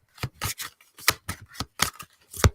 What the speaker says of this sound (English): So I'm going to tell you as I'm shuffling here, aligning the energies of the now for Sunny.